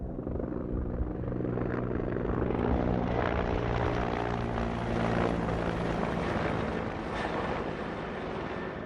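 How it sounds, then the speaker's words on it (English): A firefighting helicopter passes overhead near a Peachland wildfire, its rotor thumping and engine roaring loud and continuous, close and sustained throughout. "Here comes a helicopter."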